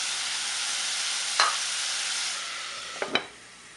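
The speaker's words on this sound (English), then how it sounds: "the objective here is to let the vegetables simmer a little" Vegetables simmer in oil in a pot for a Trini homestyle vegetarian saltfish dish, giving a steady close sizzle broken by a few brief stirring scrapes.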